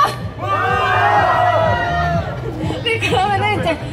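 A crowd of spectators yells and cheers on cue at an outdoor street dance busking show in Hongdae, Seoul, a loud sustained roar of many voices with whoops rising and falling.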